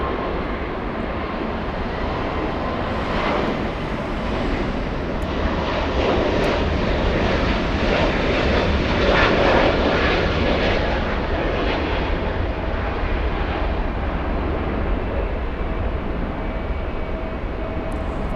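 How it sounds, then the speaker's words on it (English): Embraer Praetor business jet at Los Angeles International Airport (LAX) produces a steady, loud, broadband engine roar that swells slightly in the middle and holds throughout, with no voices. "that's the Embraer Praetor"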